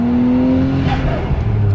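A car engine fitted with GTRS turbos on a stock 2.6 revs loudly up close, a steady droning tone that rises slightly and then falls away.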